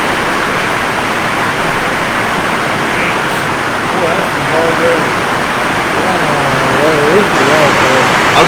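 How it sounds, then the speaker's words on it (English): Pouring rain, a loud, dense, steady hiss of downpour filling the whole stretch, with voices talking faintly underneath it. "It's pouring down rain."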